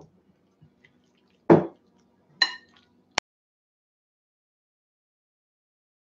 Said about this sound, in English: So now we're just going to stir all this up together.